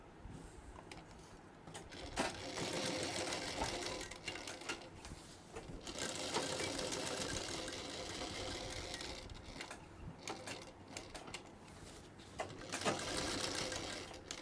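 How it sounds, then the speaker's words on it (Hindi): A sewing machine stitches along folded salwar fabric edged with buckram, a steady rapid mechanical whirring that runs in bursts with short pauses, close and fairly quiet. "रखने के बाद यहाँ पर सिलाई लगाते चले जाएंगे इस प्रकार"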